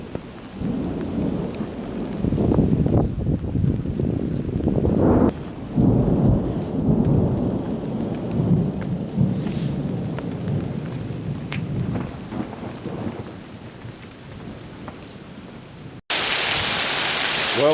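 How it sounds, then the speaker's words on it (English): A heavy rainstorm drums down in an off-grid village as deep rolling thunder rumbles through, loud and continuous, ending in a burst of hissing rain. "Well, I guess the rains are here."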